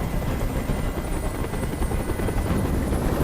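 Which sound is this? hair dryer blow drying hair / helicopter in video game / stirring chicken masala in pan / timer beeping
helicopter in video game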